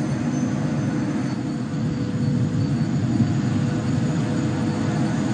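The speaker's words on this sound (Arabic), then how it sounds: "نلاحظ هنا الهبوط بزاوية حادة، وهذا الهبوط يستخدم في بعض رحلات العمليات" A Kawasaki C-2 transport aircraft lands steeply at the Dubai Airshow, its jet engines a steady, loud, broad roar that holds level throughout with no voices.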